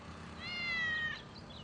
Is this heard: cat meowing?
yes